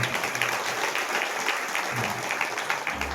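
An audience claps steadily in dense, even applause at a Shrimad Bhagwat Katha gathering in Dati, Kalamnuri, heard moderately far off with no voices on top.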